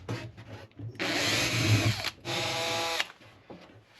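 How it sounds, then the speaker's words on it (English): A power drill bores screw pilot holes into the wooden frame of an abandoned sailboat under refit: two loud, close whirring runs of about a second each, with brief quiet handling between them. "We're just going to pre-drill these holes on the frame."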